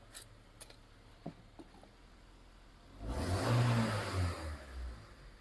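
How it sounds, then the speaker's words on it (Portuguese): Car engine idling with a few faint clicks, then revved hard for about two seconds into a loud rising roar that falls back and surges again as the car is checked with an OBD2 scanner. "vou dar uma acelerada."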